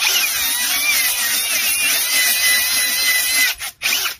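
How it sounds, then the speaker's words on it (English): A 320 grit ball hone spun by a power drill inside a Honda CRF250R Nikasil cylinder makes a loud, steady, high grinding whir, with the drill briefly stopping and restarting just before the end. "This is a 320 grit ball hone."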